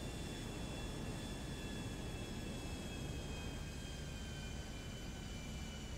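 A seaplane drones steadily overhead, a continuous broadband engine rumble with faint tonal whine, fairly distant and even throughout with no voices.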